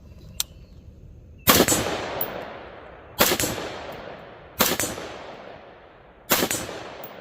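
Rifle fitted with an ACOG optic firing four sharp, loud shots at an unhurried, roughly even pace, each crack followed by a decaying outdoor echo, with a faint click before the first.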